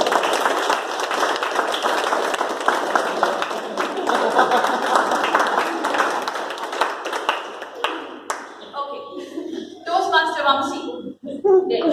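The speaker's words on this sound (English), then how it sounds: "One big round of applause." An audience at an installation ceremony applauds steadily for about eight seconds, the clapping thinning out as a voice begins speaking over the last few seconds.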